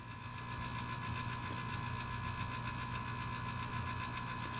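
Small auger motor on a Breckwell analog pellet stove running under test, a steady close mechanical hum with a faint rapid ticking pulse, even in level and without a break.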